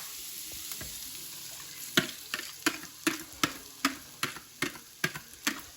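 Eggs, bacon and peppers cooking in butter over low heat in a pan, with a steady soft sizzle under a run of regular clicking taps that sound like a utensil striking the pan, close and moderately loud.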